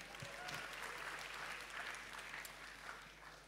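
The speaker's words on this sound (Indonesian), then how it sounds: "tepuk tangan untuk kita semua" An audience at a climate conference session applauds steadily, a dense wash of clapping from many hands heard from some distance, fairly quiet and fading slightly at the end.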